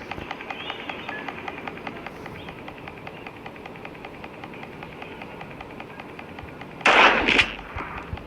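Gunfire in a game, with a faint steady crackle of background action and one loud burst of shots near the end, no talking.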